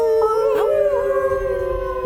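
Several people howl together like wolves, voices imitating the animal in unison, sustained wavering tones layered over one another, fairly loud and close throughout without talk.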